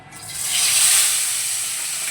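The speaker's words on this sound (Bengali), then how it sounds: "তো এখন মাছটা ভেজে নেব। দিয়ে দিচ্ছি মাছটাকে" Pomfret fish slides into hot oil, setting off a loud, bright hissing sizzle that swells within a second and then settles into a steady fry, close by with no talking.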